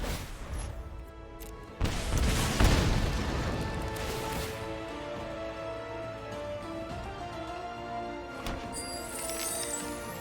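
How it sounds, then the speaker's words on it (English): A video game explosion effect in Magic: The Gathering Arena: sharp cracks and a heavy boom around two seconds in, followed by a long ringing musical tail and a few lighter impacts. "Bigger explosions are more fun."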